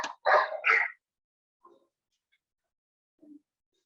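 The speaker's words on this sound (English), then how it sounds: "the dogs are barking" A dog barks three quick times up close, followed by a couple of faint, soft yips after a pause.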